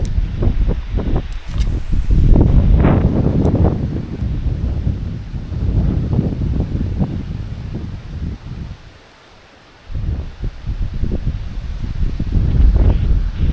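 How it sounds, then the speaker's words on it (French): Gusty wind blows along a river during a fishing outing, buffeting the microphone in heavy rumbling bursts that swell and drop, with a short lull near the end before the gusts return. "Le vent rend un peu plus difficile la pêche à vue."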